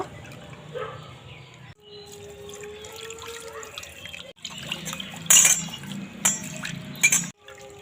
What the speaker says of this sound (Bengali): এবার ভালো করে এইভাবে ধুয়ে নেব এই ছেঁকনিটা দিয়ে এবার ছেঁকে নেব এইভাবে দুই তিনবার ভালো করে পরিষ্কার জল দিয়ে ধুয়ে নেব